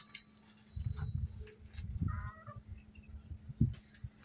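Aseel chickens cluck softly in a farmyard, a few low, faint clucks and short calls scattered across the clip with no speech.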